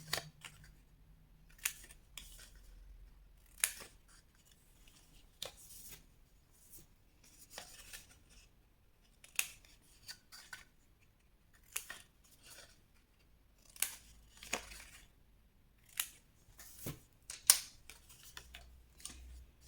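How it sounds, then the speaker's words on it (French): Paper snipped with scissors at a slight angle for a scrapbooking advent calendar, a series of separate crisp cuts spaced a second or two apart, close and quiet in an otherwise still room. "vous pouvez couper légèrement en biais à chaque extrémité"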